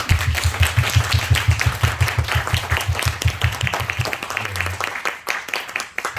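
A church congregation claps during a Sunday service, a steady burst of applause at close range with a low droning hum underneath and a voice briefly speaking toward the end.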